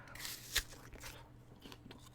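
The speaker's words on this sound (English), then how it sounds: "This is insanely crunchy." A single sharp crunchy bite into a Green Dragon apple, one loud snap near the mic followed by quieter faint chewing crackles.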